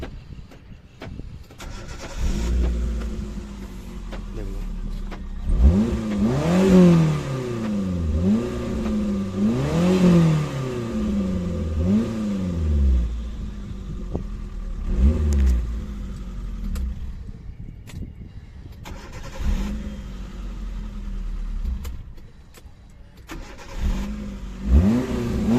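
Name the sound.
Hyundai Santro Xing car engine starting and revving with new fuel pump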